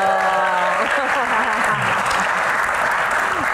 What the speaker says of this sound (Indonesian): Seru ya, tepuk tangan lagi dong.